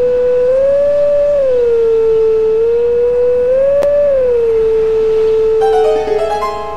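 Link, transformed into a wolf in The Legend of Zelda: Twilight Princess, howls a long sustained tone that rises and dips in pitch, loud and clear, ending with a brief chime-like game jingle.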